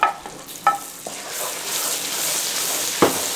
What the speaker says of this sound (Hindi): ये जो दाल अपने ग्राइंड की थी इसमें शामिल कर दें और इसको 5 मिनट भून लें हल्के फ्लेम पे